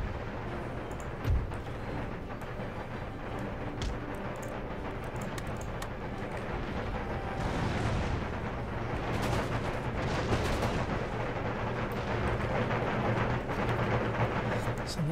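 Artillery and howitzers firing in Empire Total War, distant booming cannon shots and rumbling battle noise under steady ambient din across a long stretch, with occasional sharper reports rising above it.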